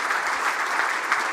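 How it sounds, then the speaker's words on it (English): Audience applause at an international investment summit fills the whole stretch, a steady dense clapping from a large crowd with no pause. "let's give a round of applause"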